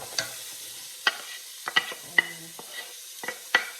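Onion, garlic and ginger cooking in a soup pot on a stovetop burner at medium heat, with a soft sizzle and scattered sharp clinks and scrapes of a utensil stirring against the pot, close and without talk.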